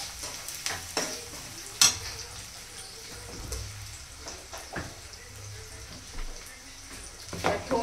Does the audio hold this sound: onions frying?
yes